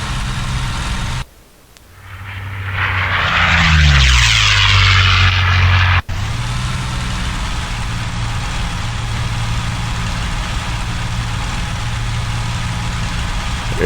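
A P-40M fighter's engine in IL-2 as the plane dives, a loud continuous drone whose pitch and roar swell and shift, briefly dropping out near the start, then settling into a steady heavy hum, no voices.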